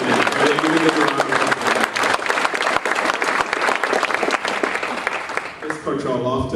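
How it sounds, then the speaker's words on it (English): Dense audience applause at an Upward Bound award ceremony for the residential staff, loud and sustained crowd clapping with some voices and cheers mixed in. "So let's give a hand out to the residential staff, please"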